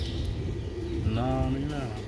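Pigeons cooing on a rooftop loft, several low, repeating coos close by over steady background noise and some voices.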